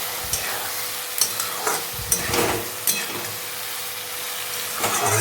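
Kakrol frying with a coconut, mustard and poppy seed paste in a pan, a soft continuous sizzle broken by several close stirring scrapes.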